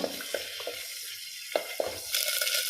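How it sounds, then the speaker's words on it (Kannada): Ginger garlic paste frying in hot oil, a steady close sizzle with a few sharp spoon scrapes and taps against the pan, growing louder and brighter toward the end. "ಈಗ ಶುಂಠಿ ಬೆಳ್ಳುಳ್ಳಿ ಪೇಸ್ಟ್ ಒಳ್ಳೆ ಫ್ರೈ ಆಗಿದೆ"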